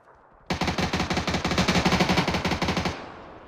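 Loud close automatic gunfire in PUBG, a rapid burst of roughly two dozen evenly spaced shots lasting over two seconds, then a short fading tail.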